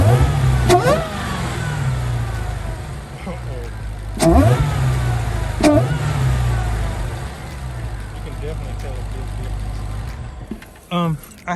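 A modified 2021 Dodge Charger SRT Hellcat is revved hard in a few sharp bursts, each a deep rising roar that falls back to a rumbling idle, loud and close with brief talk between.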